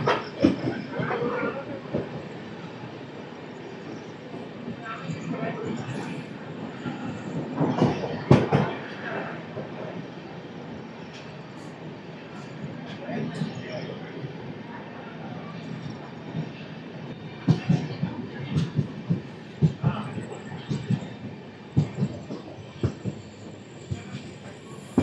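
The Toofan Duronto express train, number 12213 from Yesvantpur to Delhi Sarai Rohilla, runs on rails with a steady rolling rumble and irregular clanks and wheel thumps, heard from inside a coach.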